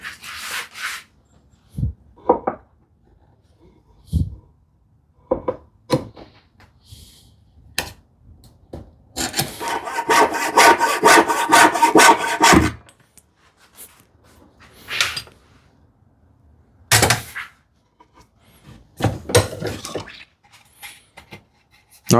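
Hand sawing wood for a housing dado on a speaker table enclosure, with short rasping strokes followed by a sustained burst of rapid back-and-forth cutting, close and loud, in a quiet room.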